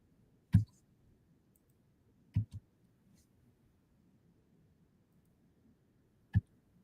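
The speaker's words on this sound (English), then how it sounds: "I click on it, press delete on the keyboard." Computer mouse clicks and a keyboard key press in a quiet room: a few sharp, isolated clicks spaced seconds apart, including a quick double click, with near silence between them.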